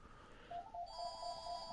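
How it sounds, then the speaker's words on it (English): A phone rings indoors with a faint electronic ringtone, a short repeating melodic pattern of steady tones that grows slightly louder, heard alone without talk. "That's my phone."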